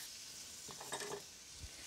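Shrimp cooking for risotto in a hot pan, giving a steady sizzle with a few brief clinks and stirring sounds, alone and close.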